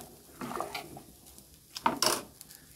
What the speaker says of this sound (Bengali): এবার আমি সবজিগুলো আমি এই যে খিচুড়ির মধ্যে ঢেলে দেবো।